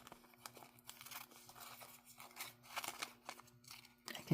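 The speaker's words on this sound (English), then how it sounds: "I'm going to go ahead and trim with my scissors on the side here" Close, quiet snips of scissors trimming paper, with soft crinkling between the cuts and a faint steady hum underneath.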